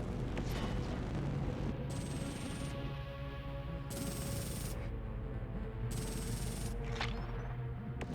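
Torpedoes blowing up in the space strategy game Endless Space 2: a dense, continuous rumbling barrage of booms with no clear gaps, heard alone.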